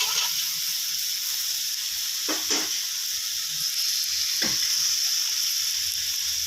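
Pork and snow peas stir-fry in a hot pan with a continuous bright sizzle, broken by a few short scrapes of a spatula tossing the food, and no talking.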